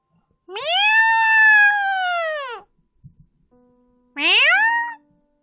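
A house cat meows insistently in the morning: two long, loud, drawn-out cries close by, separated by a short pause with a faint thump between them.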